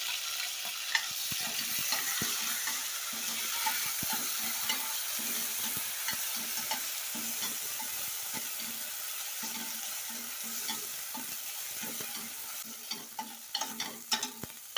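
Onions fry with ginger-garlic paste in a pan for a millet chicken biryani, giving a continuous, even sizzle with soft stirring scrapes that grow more frequent toward the end.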